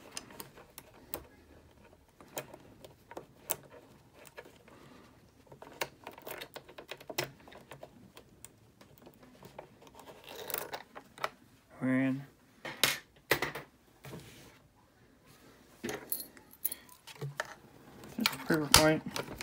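A Sentry fire chest safe lock being picked with a tension bar and pick, producing scattered small metallic clicks and scrapes, close up and irregular, with a brief louder clatter near the middle.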